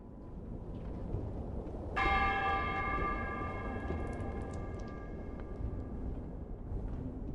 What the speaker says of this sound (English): revealing the old bell of St. Bronagh. It was restored and now on view at St. Mary's Chapel